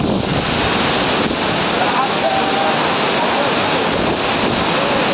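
A loud, continuous roar of the Talavade waterfall in rainy Konkan, a dense rushing wash of water filling the space, with faint voices of a crowd barely audible beneath it.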